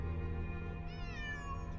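Yuri the cat meows in a Nancy Drew detective video game, a single drawn-out meow that rises and bends over a steady background hum.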